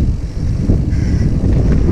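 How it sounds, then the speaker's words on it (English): Strong wind buffets the microphone outdoors on a mountain bike trail, a loud, steady low roar with gusty swells throughout and no voices. "Ooh, that was strong wind."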